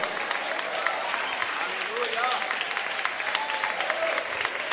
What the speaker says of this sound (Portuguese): Eu vou pedir para melhorar essas palmas, porque é para Jesus